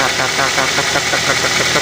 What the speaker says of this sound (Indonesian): akan terdengar bunyi kasar bila ada masalah pada mesin mobil kita